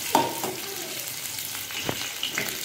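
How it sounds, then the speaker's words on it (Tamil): Dried red chili and masala with ginger-garlic paste sauté in a pan, a soft, close sizzle and frying crackle with occasional stirring scrapes. "சேர்த்துட்டு இது ஒரு நிமிஷம் நல்லா வதங்கிட்டுங்க"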